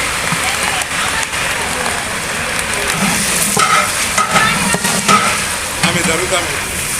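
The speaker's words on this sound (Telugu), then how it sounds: "అందులో బిర్యానీ ఆకు లవంగాలు అలాగే పచ్చిమిర్చిని అయితే వేయించుకోవాలి కరివేపాకు యాడ్ చేసుకోవాలి" Bay leaf, cloves, green chillies and curry leaves fry in a large quantity of oil for potato kurma, giving a steady, loud sizzle with bursts of spoon scraping and stirring throughout.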